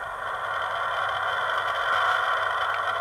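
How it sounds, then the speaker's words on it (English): A model train's DCC sound module plays a diesel locomotive engine notching up, a steady, loud mechanical drone that builds slightly in intensity and runs throughout without pause. "Diesel notch up."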